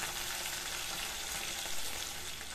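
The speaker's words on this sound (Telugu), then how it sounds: "ఒక ఐదారు మిరపకాయలు లైట్గా ఫ్రై చేసుకొని కొంచెం కరివేపాకును వేసి ఈ తాలింపు మొత్తాన్ని బాగా ఫ్రై చేసుకోవాలి" Dried red chillies and curry leaves tempering in hot oil for a spicy potato fry make a dense, even sizzle, close and unbroken from start to finish, with no talking.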